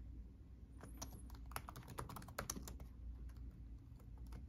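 Fingers type on a computer keyboard at a Windows 10 machine. The key clicks are quiet, close and irregular, with a faint low hum underneath.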